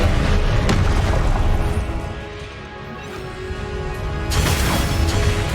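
Confringo explosive spell cast in Hogwarts Legacy, heard as loud booming blasts with a sharp burst near the start and another strong blast after a softer lull, busy game effects throughout.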